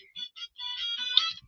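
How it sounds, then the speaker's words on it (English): A phone ringtone plays in short, repeated electronic bursts. It is fairly clear and close, with no talking over it. "phone is ringing"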